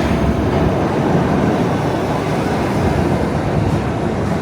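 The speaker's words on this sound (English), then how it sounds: "Oh, this is the one train." A New York City subway 1 train rumbles steadily at close range as it arrives at a station, a continuous loud roar of wheels and carriages with no talk over it.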